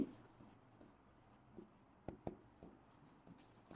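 A pen scratching across paper while working through a numerical analysis problem in a lesson; faint, sparse strokes with a few sharper taps, quiet and alone.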